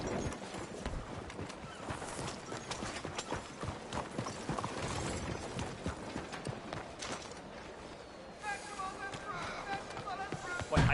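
Horse hooves clip-clopping in the Red Dead Redemption 2 video game, a steady rhythmic trot of fairly faint hoofbeats, with a brief voice near the end.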